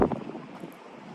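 Blustery wind buffets the microphone in a rough, rumbling gust that fades to a steady outdoor whoosh.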